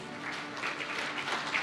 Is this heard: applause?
yes